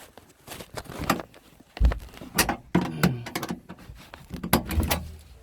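Tailgate and rear glass of a 2002–2005 Ford Explorer being worked open by hand: a series of sharp clunks, latch clicks and rattles in uneven bursts, close to the microphone, with no talking.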